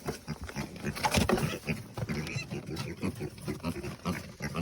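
Pigs grunting and snorting close by in their pen at feeding time, a busy overlapping jumble of deep rough grunts and squeals that continues steadily throughout.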